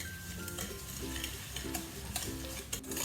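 Cake batter ingredients including sugar and salt are whisked in a bowl, with soft, rapid, rhythmic stirring strokes heard quietly and close up, with no talking.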